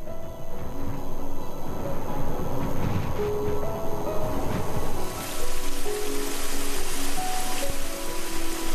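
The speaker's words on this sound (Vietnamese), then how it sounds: "Các trận mưa có thể dữ dội." Heavy rain falling in the Welsh mountains, a dense continuous hiss of drops on surfaces with no voices, steady and enveloping throughout.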